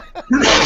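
A single sharp sneeze bursts out after a short indrawn breath, loud and close.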